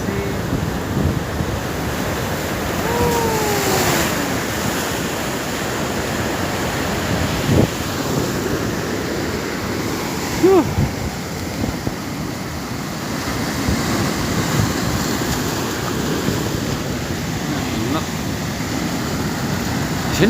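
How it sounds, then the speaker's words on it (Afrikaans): Big ocean waves break on the shore in a loud, continuous surf wash with strong wind buffeting the microphone, and a few brief voices are heard through it. "Groot golfies hier."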